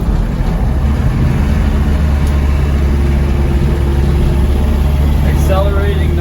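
A 1991 Land Rover Defender 90 with a 200Tdi diesel engine pulling uphill in third gear, a loud, steady low engine drone heard from inside the cab, with a voice talking over it.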